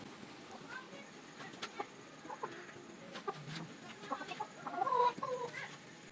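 Soft, scattered clucks from gamefowl close by, with a few louder calls near the end over a steady low background murmur.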